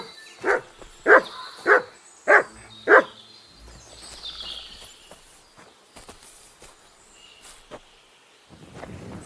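Dog Mutz barks five times in a quick even series, close and loud, in Kingdom Come: Deliverance II, followed by quieter outdoor ambience with faint crickets and light footsteps.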